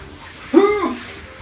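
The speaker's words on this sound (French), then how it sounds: "Je suis en train de tourner le robinet pour faire eau froide." Cold tap water runs in a steady close hiss while long hair is being washed, with a short vocal exclamation rising briefly over the flow.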